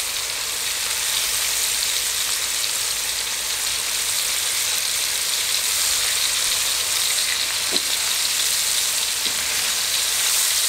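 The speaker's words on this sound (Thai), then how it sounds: "มาทอดในส่วนของตัวปลา" Floured pieces of red tilapia (pla tubtim) deep-frying in plenty of hot oil over medium heat, giving a loud, steady, continuous sizzle with a few faint pops and no talking.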